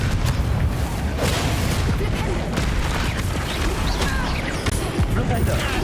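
Confringo blasting spell explosions in the Hogwarts Legacy video game, a dense, continuous barrage of booms and crackling blasts at steady loudness with no pauses throughout, mixed with game combat noise.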